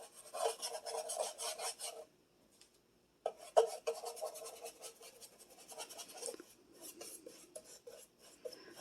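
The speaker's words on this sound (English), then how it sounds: "I'm going to continue painting and then I'll show you what it looks like when it's done." A brush paints a Dollar Tree shadow box, its bristles rasping and scratching in short, quiet strokes that start and stop, close up with no talk.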